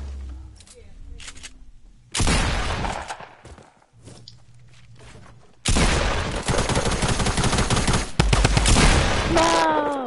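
Fortnite video game gunfire in bursts of rapid automatic shots and heavy blasts, loud and dense in two long stretches separated by quieter moments with footsteps, while players talk over it.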